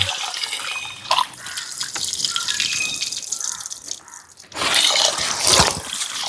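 Rice being washed in water for a Dindigul-style thalappakatti chicken biryani, with running tap water, splashing and swishing in a bowl or sink, close and moderately loud, rising in bursts toward the end.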